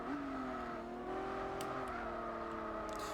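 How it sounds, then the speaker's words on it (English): A video game Infiniti G35 engine drones steadily with a rising and falling V6 tone in Gran Turismo 4, continuous and close, with faint tire noise over it. "Nice V6 sound."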